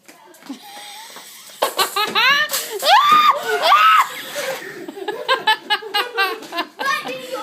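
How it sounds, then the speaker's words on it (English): A person screams in high, rising shrieks, loud and close, mixed with breathy laughing and wheezing. "Screaming like a little girl."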